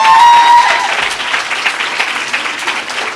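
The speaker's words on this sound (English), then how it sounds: "please, a round of applause for Zama." An audience at a public lecture on Black feminist work claps in a dense, sustained burst that is loudest at the start and then settles into a steady patter, with faint crowd noise beneath.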